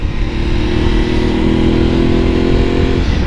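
Aprilia Tuareg 660 motorcycle engine revving up and holding a steady high rev for about three seconds, loud and close with a strong low drone, before dropping off.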